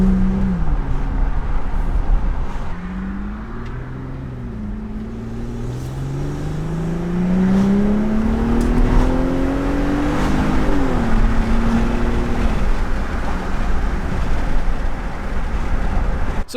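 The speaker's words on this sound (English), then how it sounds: "go for another drive and just see if we can get it up to some higher RPMs" A car engine pulls through the gears from the cabin, its loud, steady drone climbing in pitch to higher RPMs, dropping at a shift, then rising and holding again as the car keeps driving.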